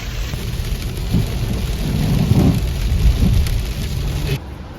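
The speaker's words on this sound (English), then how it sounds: "So per usual, we're towing and it's pouring rain." Heavy rain pouring down with a low rumble of thunder while towing on a highway near Vail, a steady loud wash of rain and rolling low rumble building midway, then easing near the end.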